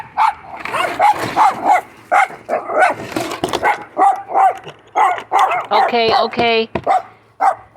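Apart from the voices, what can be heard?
dog barking at gate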